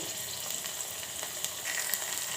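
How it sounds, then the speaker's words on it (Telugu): Chopped onions and green chillies fry in hot oil in a pan for a curry, giving a constant close crackling sizzle with small pops throughout and no voices. "ఆయిల్ వేడైన తర్వాత ఆనియన్స్ వేసేసుకోవాలి ఇప్పుడు ఆనియన్స్ వేసుకున్న తర్వాత పచ్చిమిర్చి వేసేసుకోవాలి"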